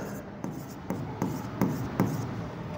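Pen writing figures on paper during an accounting lesson, a soft continuous scratch broken by several small taps as strokes start, close and fairly quiet.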